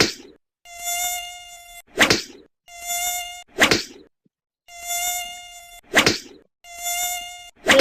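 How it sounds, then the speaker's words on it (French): Synthetic mosquito buzzing from the video game Mosquitos Control V, thin whining drones that rise and cut off in repeated bursts of about a second, alternating with sharp noisy hits, loud and close with no talk. "Dans le jeu, il faut buter les moustiques."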